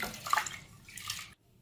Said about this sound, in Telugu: ఒక కప్పు తీసుకున్నానండి కందిపప్పు. వాటర్లో వేసి కడుక్కోవాలి.